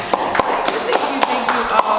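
Scattered hand clapping from a small group on a talk show set, a few sharp claps standing out over a murmur of voices, brief and moderately loud rather than a full ovation.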